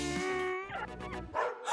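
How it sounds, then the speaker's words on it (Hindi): A dog barks and yips near a cardboard jail, giving a few short, close bursts mixed with whimpering tones over a steady background hum. "नहीं, ये कुत्ता कहाँ से आया?"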